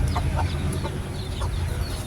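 Labuyo chickens near a coop with chicks give soft, intermittent clucks, a few short calls scattered over a low rumbling background.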